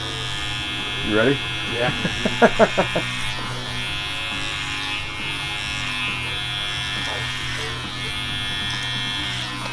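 Electric hair clippers fitted with a number two guard take bulk off during a men's haircut, a steady close buzz running throughout while people speak briefly over it near the start.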